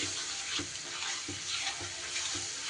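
Spice mix and a spoonful of water sizzling in a hot pan, a dense steady hiss with a few soft rhythmic stirring knocks, close and without speech.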